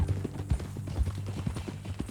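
Horse hooves clip-clop at a steady, brisk walking rhythm in Red Dead Redemption 2, close and clear over a low rumbling background.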